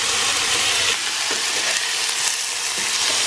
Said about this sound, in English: And then we're going to put our veggies to saute.